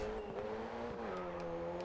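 Car contact during a race in the Race Driver GRID 2 video game: engine drone holds steadily throughout, with a faint thump of one car bumping another partway through, plus light scraping and tire noise.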